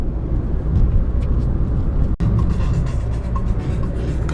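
A car travels along a road in Crimea, giving a steady, loud rumble of engine and tire noise close by, with a brief dropout midway and no talking.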